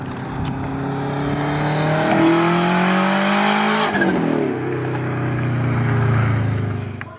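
A 400 hp Subaru Spec.B engine on a break-in tune runs steadily, its revs rising to a peak then dropping back to a lower idle-like drone, loud and close.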